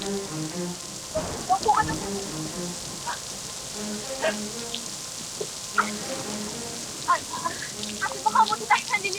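Rain falls steadily in a forest as a soft, continuous hiss with scattered nearby drips, while people talk intermittently over it.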